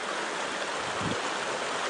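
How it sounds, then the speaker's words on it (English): Continuous rushing of a flowing creek where it splits and rejoins, a steady broadband wash of water close by with no voices. "This is where the creek slips and comes back together."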